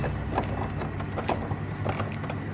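A sewing machine stitches an X pattern across webbing, giving a steady, close mechanical whirr with rapid ticking needle strokes running continuously and fairly loud.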